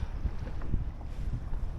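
Wind gusts across open water at the beach during kayak fishing off Lauderdale, buffeting the microphone in a steady, loud low roar with irregular thumps and no talking.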